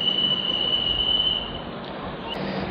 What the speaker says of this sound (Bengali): 14 নম্বর প্ল্যাটফর্মে ট্রেন ঢুকছে, পেছন ঘুরে আর কি ট্রেনটাকে ঢোকানো হচ্ছে প্ল্যাটফর্মের দিকে।